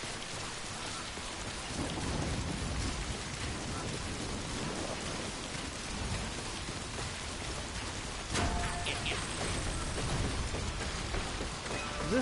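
Steady heavy rain pours across a stormy landscape in Death Stranding, a dense continuous hiss with low rumbling underneath, and a sudden brighter crackle of thunder about two-thirds through.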